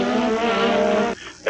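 Ayrton Senna's Formula 1 car engine under braking in a race against Nigel Mansell, a loud, close, harmonic engine whine holding steady for about a second before cutting abruptly into quieter roar.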